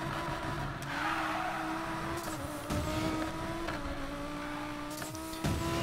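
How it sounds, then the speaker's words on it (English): Audi R8 Widebody in the Need for Speed Payback video game droning steadily through a tunnel, a sustained engine tone with echoing road noise and a few brief shifts. "Lovely bit of tunnel noises there from this car."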